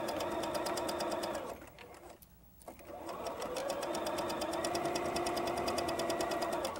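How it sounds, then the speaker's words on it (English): A sewing machine stitches fabric near its finished edge, running in a fast, even, close mechanical chatter that pauses briefly in the middle and then resumes steadily. "I'm stitching just on the inside of the finished edge here because I want it so that it will turn out"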